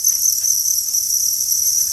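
Crickets at a Thai cricket farm chirping in a dense, shrill, continuous high-pitched trill, loud and close with no voices.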